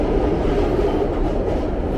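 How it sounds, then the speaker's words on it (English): Philadelphia SEPTA Orange Line subway train rumbling past on an evening street, a loud steady low roar with faint rail clatter and no speech. "That is the subway, the orange line."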